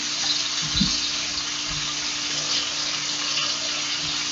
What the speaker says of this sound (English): Over here washing my hands